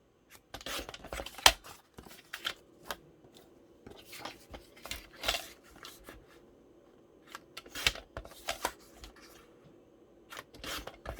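Scrapbook paper being cut to size with scissors, heard as a string of short, crisp snips and rubbing rasps in uneven bursts, close and fairly quiet, with no talking.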